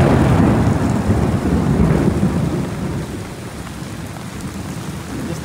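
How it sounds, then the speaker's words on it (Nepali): Heavy thunderstorm during a road trip in eastern Nepal, with dense rain pouring onto surfaces and deep rolling thunder, loud and steady at first and easing slightly toward the end, with no voices. "यस्तो चट्यान र बिजुली चम्के आछु दाइ भिजाउनु भयो।"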